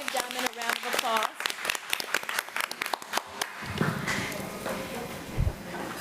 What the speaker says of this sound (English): Let's give Diamond a round of applause.